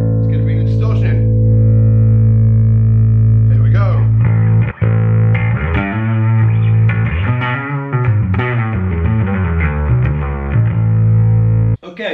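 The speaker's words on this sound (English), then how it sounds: "Now, as I bring this blend up, it's gonna bring the distortion in." A bass guitar through a Darkglass Alpha Omega distortion pedal plays sustained notes that grow gritty and buzzing as distortion is blended in, loud and close with no talking.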